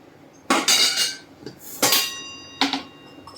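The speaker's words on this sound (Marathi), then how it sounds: "एकदा हलवायचा आहे." A spoon clanging against a metal pan while stirring toor dal with drumsticks and tomato, three bright metallic scraping clinks, close and loud with quiet gaps between.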